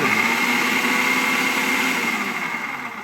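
Miyako food processor chopping onions, a steady loud whirring motor hum with a high whine running throughout, easing slightly toward the end.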